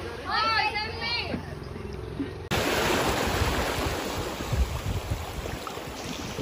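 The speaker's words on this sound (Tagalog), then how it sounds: "Dito na yung dagat." Surf breaks and washes over a rocky shoreline at a park, a continuous broad roar with wind buffeting the microphone; a person's voice and high chirping come through in the opening seconds before the surf dominates.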